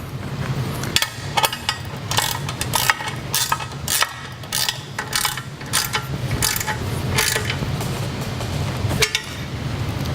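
Ratchet wrench tightening bolts while assembling an Earthquake walk-behind lawn edger, a steady run of rapid metallic clicks with clinks, close and fairly loud throughout.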